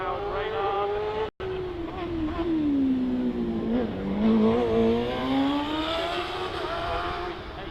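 A Kawasaki-powered Radical race car climbs a hill at a climb event, its high-pitched engine revving hard and wailing up and down through the gears. The car stays fairly close while a commentator talks over it.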